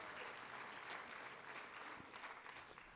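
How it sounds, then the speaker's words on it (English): Steady applause from a banquet audience at a spring agricultural program event, dense and continuous throughout, fairly quiet and distant with no voices over it. "So let's give a round of applause."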